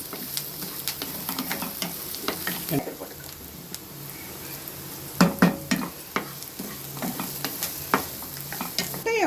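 Crushed garlic goes into onions and green chillies frying in a pan for a drumstick-leaf egg stir-fry, giving a steady close sizzle broken by repeated scraping stirs and a few louder clacks of the spoon.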